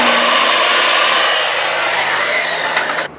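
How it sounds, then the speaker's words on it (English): A power saw whines steadily as it makes a short nip cut into a clamped board during cabinet building, loud and close, running alone for about three seconds before winding down. "I'm going to give it a little nip and measure just to make sure I'm not jumping off a cliff"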